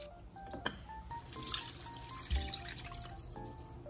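Water being poured into a pot of West African peanut meat stew (mafé) with chicken bouillon, a faint trickling and splashing pour with light drips, quiet and close, with no voices.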